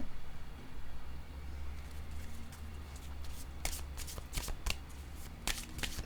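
Playing cards being shuffled at close range, a run of crisp, rapid riffling flutters that grows busier toward the end over a quiet low hum; no one speaks.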